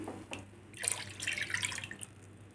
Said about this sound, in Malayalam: ഇതിലേക്ക് ഞാനിനി തേങ്ങാപ്പാൽ ഒഴിക്കുകയാണ് കേട്ടോ.